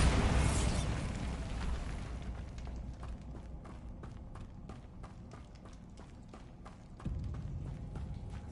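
Bombarda explosion spell in Hogwarts Legacy: a loud blast opens the clip and fades into a long rumbling tail, with rapid clattering pops and a second thump near the end.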